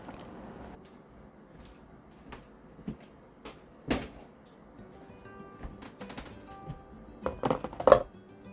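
Freezer opened in a home kitchen while lidded containers of zucchini chips are set inside: a few soft bumps and knocks, then a cluster of louder clatters and a thud near the end, close and fairly quiet.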